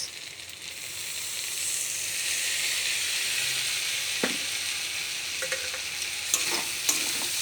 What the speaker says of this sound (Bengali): ভালো করে মিশিয়ে রান্না করে নেবো